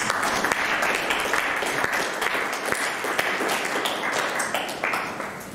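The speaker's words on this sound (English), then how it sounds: "Can we have a round of applause for all of our members?" An audience at a school blazer and jumper presentation claws out loud, sustained applause for the student members, a dense patter of many hands close by that tapers slightly toward the end.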